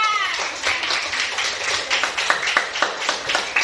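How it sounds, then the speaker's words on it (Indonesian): A classroom group gives a short round of applause for group 4, light scattered clapping that settles into a few distinct, fairly close claps toward the end. "Kasih aplaus untuk kelompok 4."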